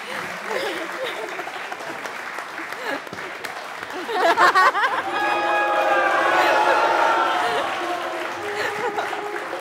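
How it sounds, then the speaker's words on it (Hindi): Studio audience applause on a Pakistani comedy talk show set, a steady crowd clapping with chatter that swells to a loud burst midway and then sustains, with people talking underneath. "जब खत्म हो जाए तालियां तो बताओ मुझे"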